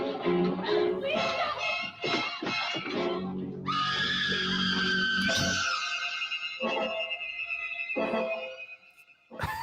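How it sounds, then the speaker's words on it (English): In a film scene a woman screams in abject terror, long piercing cries rising and breaking, loud and close, mixed with other frantic vocal sounds. "one disturbing image, a woman screaming in abject terror"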